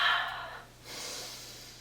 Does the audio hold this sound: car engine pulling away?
no